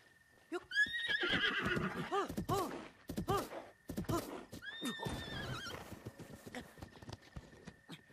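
A horse neighs and whinnies repeatedly in Zelda: Breath of the Wild, close and loud, with clip-clopping hooves and a few sharp thuds breaking between the calls.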